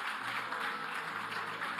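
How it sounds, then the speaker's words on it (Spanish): Sustained applause from an audience at a concert honoring the student tuna of the Universidad Católica Boliviana San Pablo, a steady dense wash of clapping throughout, moderately distant. "Aplauso a nuestra querida Tuna de la Universidad Católica Boliviana San Pablo."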